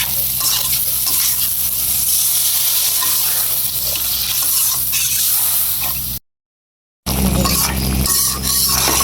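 Curry frying and being stirred in a pan, a steady close sizzle with scraping stir strokes, cut by a brief silence before the cooking noise resumes.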